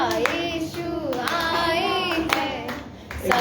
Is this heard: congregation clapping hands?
yes